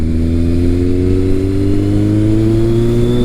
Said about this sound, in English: Both bikes kind of have a nice tone to them, off throttle, coming up to a stop.